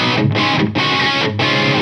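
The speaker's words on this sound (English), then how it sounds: "So the overdrive does what it says on the tin, so it adds a bit of overdrive" Electric guitar driven through an inexpensive overdrive pedal adding mild grit to the core tone, three sustained strummed chords with short gaps between them, loud and close.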